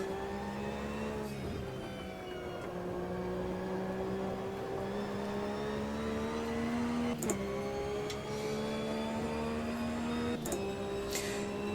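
Race car engine in the sim racing game Automobilista 2, a sustained droning whine holding a fairly steady pitch with small dips and rises as gears shift, accompanied by occasional ticks and clicks.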